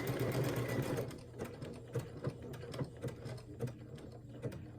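A Luminaire sewing machine fitted with a circular attachment stitches with a steady mechanical whir and then settles into evenly spaced, distinct needle thumps about every half second, close and clear.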